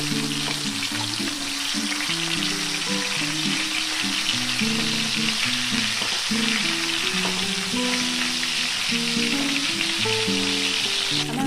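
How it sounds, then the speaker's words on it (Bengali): Tilapia fish pieces frying in hot oil in a pan, giving a steady crackling sizzle throughout at moderate loudness, with background music playing over it. "মাছগুলো ভাজা হয়ে গেছে এবার একটা একটা করে আমি মাছগুলোকে তুলে নেব"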